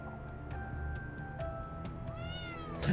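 A cat meows in a video game, with a few short calls spread across the stretch over a soft musical background, then a louder closing cry near the end; no talking.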